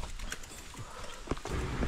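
Horses plod along a muddy campsite trail where their hooves sink, giving a few soft, uneven clops close by over steady outdoor background noise.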